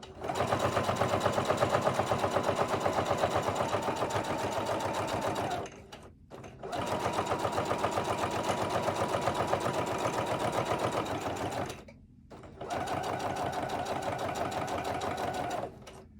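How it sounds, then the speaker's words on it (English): A sewing machine stitches a notepad in three long, steady runs, its rapid even chatter close and loud, broken by two brief pauses where the work is turned. "Now I'm gonna turn it, put it back down, sew down."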